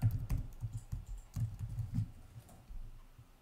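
Fingers type on a computer keyboard, entering a business name while setting up an eBay seller account, a quick run of close, uneven key clicks in short bursts.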